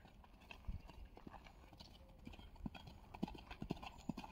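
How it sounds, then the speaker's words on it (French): A horse canters in a steady, energetic rhythm during show-jumping training, its hooves landing in regular clip-clop beats at moderate distance, with a rider coach's voice faintly present. "c'est toujours le même galop, constant, constant, constant, avec de l'énergie, un cheval qui est dans les jambes"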